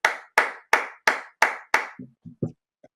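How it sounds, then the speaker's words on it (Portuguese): Six sharp, evenly spaced hand claps ring out clearly, followed by a few softer, quicker taps trailing off at the end. "eu vou bater palma com o Fortaleza"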